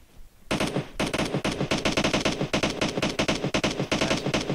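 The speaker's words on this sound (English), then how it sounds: "Where is he shooting me from?" Rapid automatic gunfire in the video game PUBG Arcade, a loud, close burst of dense repeated shots sustained for several seconds after a brief quiet start.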